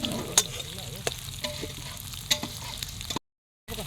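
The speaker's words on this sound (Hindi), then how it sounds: "थोड़ा सा खाली प्याज को थोड़ा हल्का ब्राउन कलर होने दे रहे हैं।" Onions browning in a tempering for dal at a picnic, giving a steady soft sizzle and crackle with a few sharp spatters and stirring clinks near the pan, briefly cutting out to silence near the end.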